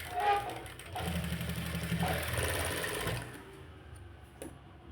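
A sewing machine stitches a princess-cut U-shape blouse in a steady, loud whirring run of about three seconds, then stops, leaving quiet handling noise and a faint click.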